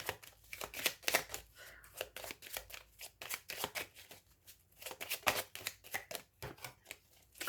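Petit Lenormand cards are shuffled for a reading, heard up close as repeated bursts of crisp riffling and slapping in an irregular rhythm, with short quiet gaps between them.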